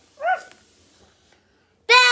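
A dog gives a short rising whimper, then after a quiet pause lets out a single sharp, loud bark close by.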